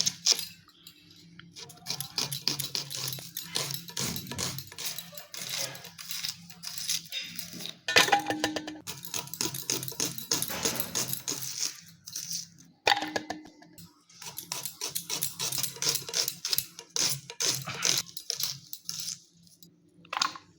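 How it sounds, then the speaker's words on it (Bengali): A knife slices onions on a cutting board for a Bengali katla fish do pyaza, with steady, rapid, close strokes that continue for about twenty seconds with only brief pauses. "দো পেঁয়াজা করার জন্য পেঁয়াজটা আমি কেটে নিচ্ছি"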